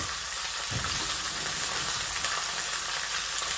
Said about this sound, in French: Nous allons le faire dorer des deux côtés.